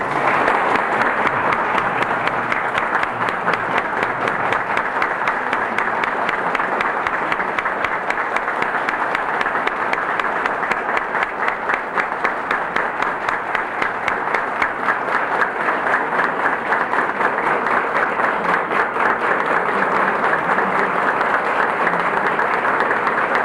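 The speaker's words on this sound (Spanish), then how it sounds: "que le llegue hasta allá el aplauso de los presentes" Sustained audience applause fills the Salón de Música of the Biblioteca Nacional at an infinite reading of Juan Bosch stories, a dense, steady wash of many hands clapping at even loudness throughout.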